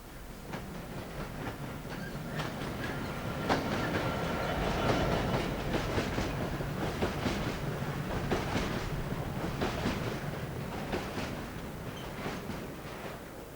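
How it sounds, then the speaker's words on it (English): Car transport freight train from Dollands Moor to Corby runs on London's Dudding Hill line, a fairly distant rumble with rhythmic clickety-clack of wheels over rail joints, swelling and holding as the wagons roll past. "A regular user is the Dollans Moor to Corby car train."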